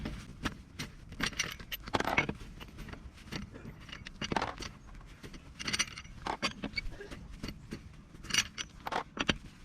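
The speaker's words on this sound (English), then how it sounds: "Now I'm gonna be removing my wheel nut bolts." Wheel nut bolts come off a Peugeot 407 SW in a run of close metallic clinks and rattles with soft handling knocks between them, irregular and fairly quiet, no talking.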